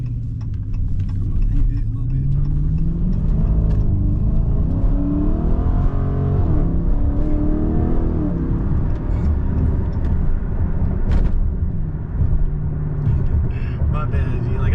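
A 2023 Dodge Charger Scat Pack Widebody pulls away with a rising engine rumble and an audible shift partway through, heard close under ongoing conversation between people.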